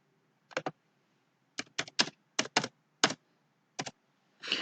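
Someone types on a computer keyboard while entering accounting amounts, tapping short, close clusters of keystrokes separated by pauses in a quiet room.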